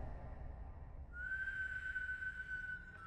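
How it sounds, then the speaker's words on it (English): A single clear, sustained whistled tone rises out of a low background rumble and holds steadily for about two seconds before fading. "they got him whistling again"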